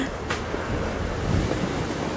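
Ocean surf washes onto a resort beach at Ocho Rios, Jamaica, as a continuous broad roar mixed with wind buffeting the microphone.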